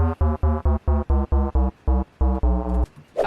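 A dry speed garage bass one-shot played in a sampler with no effects, hitting in a punchy, choppy rhythm of about a dozen short, loud, buzzy notes with brief gaps, the last few held slightly longer.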